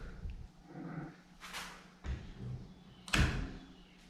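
A newly hung interior door in a new house build swings shut, with a soft thud and then a firmer latching bump a second later. The setting is a quiet room.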